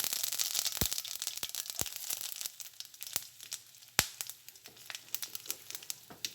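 Mustard seeds pop in hot coconut oil while tempering for a chow chow pickle, with a dense run of sharp, close crackles and snaps that fire irregularly throughout, some louder bursts standing out.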